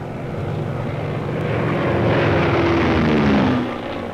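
A light propeller-driven military plane flies past, its engine drone steady and rising as it comes nearer, with the pitch sliding down as it passes and moves away.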